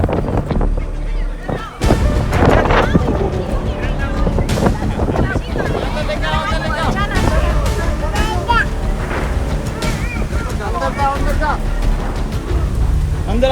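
Strong gusty wind from a sudden storm roars over an open farm field, loud and buffeting the microphone throughout, with people shouting underneath.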